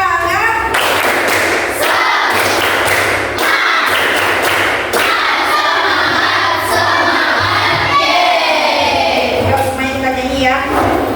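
A classroom group performs a rhythmic spirit-clapping chant during an ice-breaking activity, with sharp patterned claps and thumps mixed with voices chanting and children calling out, loud and close.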